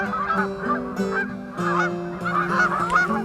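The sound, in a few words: flock of migrating birds calling in V formation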